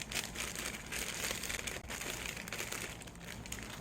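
A plastic bag crinkling as the landing gear parts for a rubber-band-powered model plane are unpacked, a faint, continuous close-up rustle and crackle.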